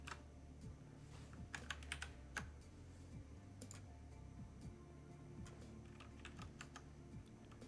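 Someone types on a computer keyboard, irregular clusters of clicking keystrokes, some louder taps, with game music murmuring quietly underneath.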